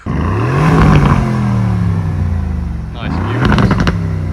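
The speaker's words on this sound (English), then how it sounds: "We'll turn it on in a bit, we'll give it a few revs" A bi-turbo V8 Aston Martin Vantage engine revs up loudly twice, rising and falling in pitch with a deep, throaty roar close by.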